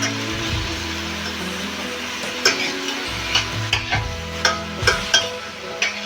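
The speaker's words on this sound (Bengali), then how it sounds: "আমি এই পেঁয়াজগুলো হালকা করে ভেজে নেব, বেশি ভাজবো না, লাল লাল করে" Chopped onion sizzles steadily with ginger in a pan as it fries lightly for a potato and wheat-flour kachori filling, with a spoon scraping and clicking against the pan every second or so.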